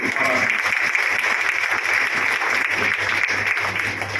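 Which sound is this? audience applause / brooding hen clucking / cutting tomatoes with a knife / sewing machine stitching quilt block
audience applause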